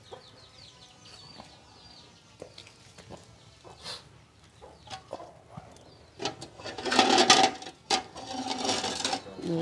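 Chickens cluck around a home in Hue, Vietnam, with soft, scattered clucks at first and then a louder, busier burst of calls near the end.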